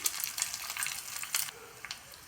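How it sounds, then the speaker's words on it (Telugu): Dried red chillies, crushed garlic cloves, curry leaves and a pinch of asafoetida tempering in hot oil for spinach dal, a close, crackly sizzle with brief louder bursts that eases off toward the end. "ఒక రెండు ఎండుమిర్చి ఒక మూడు వెల్లుల్లి రిబ్బలు పచ్చపచ్చగా దంచి వేసుకున్నాను రెండు రెమ్మల కరివేపాకు కొంచెం ఇంగువ"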